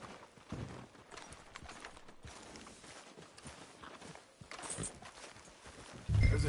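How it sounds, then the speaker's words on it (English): Horse hooves clip-clop at a walking pace in a video game street scene, a steady rhythmic patter under faint background ambience, ending with a louder low thump. "Tether the horse and I'll meet you across the street."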